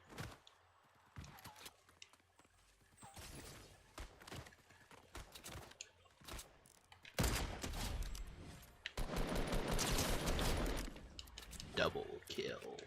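Shotgun blasts in the video game Fortnite, a burst of loud booming shots in quick succession near the end, with scattered game sounds before and a voice talking over parts of it.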